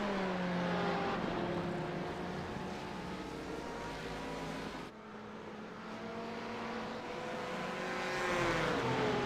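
GT1 and GTE race cars, a Ferrari among them, accelerate onto the straight at Barber Motorsports Park, loud engine roars with rising and falling pitch as several cars sweep past close by, one pass fading before the next car roars in.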